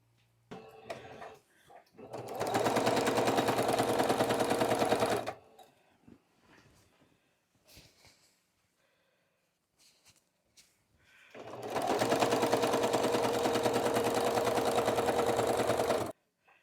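Sewing machine stitching binding around a split rail quilt: two long, loud, steady runs of close stitching with a quiet gap of small handling clicks and taps between them.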